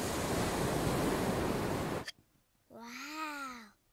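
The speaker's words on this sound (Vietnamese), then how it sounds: "Wow, con có thể nghe thấy tiếng biển rồi bà." A cartoon seashell held to the ear gives a steady rushing sea-wave hiss in Peppa Pig, lasting two seconds before cutting off, followed by a brief drawn-out voiced exclamation.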